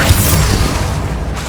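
Bombarda explosion spell from Hogwarts Legacy, a loud, deep booming blast that hits at once and rumbles on for over a second with a heavy low-end roll, no voices over it.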